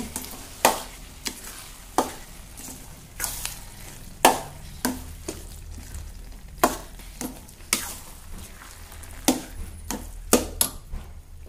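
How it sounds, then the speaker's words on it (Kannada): Rice and dal for khichdi stirred in a pot over heat: a steady run of sharp spoon scrapes and knocks against the pot, roughly one every second, close and clear over a soft sizzle, with no voices. "ನೋಡಿ ಇದೆಲ್ಲ ಮಿಕ್ಸ್ ಮಾಡ್ಕೊತೀನಿ"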